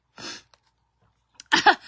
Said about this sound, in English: I'm over here just sneezing but this floor is real dusty.